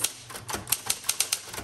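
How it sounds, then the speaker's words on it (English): Keys striking on a repainted 1960s Smith Corona Electra 120 electric typewriter, a series of about a dozen crisp, close clacks at an uneven typing pace. "let's do some typing."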